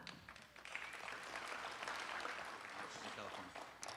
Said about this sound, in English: we gave her a round of applause